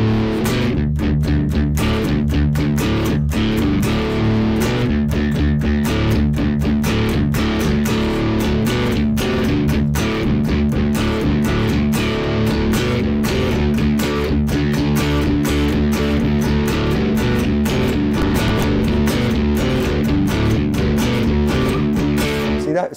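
A distorted electric guitar through a Tech 21 Frank Bello Street Driver 48 SansAmp pedal plays steady, tight chugging riffs with a smooth, compressed tone, loud and continuous, with no voices.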